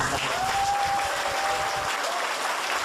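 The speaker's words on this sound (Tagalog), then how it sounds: "Kaya palakpakan po ulit natin." An audience at a product and marketing plan presentation claps in dense, steady applause that fills the whole stretch, close and evenly loud.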